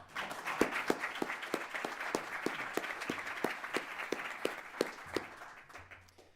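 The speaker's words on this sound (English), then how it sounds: "I think that deserves a round of applause." Applause from a small audience at a political organization's talk, a steady patter of separate claps that thins out toward the end, heard alone without talk.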